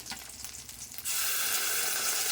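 Spice paste for a fish curry is tipped into hot oil, and a sudden loud, close hiss bursts out and holds steady after a second of quieter pan noise.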